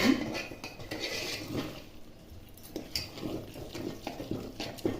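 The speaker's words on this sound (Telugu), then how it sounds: "ఇప్పుడు దీన్ని బాగా కలుపుకుందాం" Rice payasam with jaggery being stirred in a metal pot, a spoon scraping and clinking against the sides in a steady rhythm along with faint wet squishing, close and quiet.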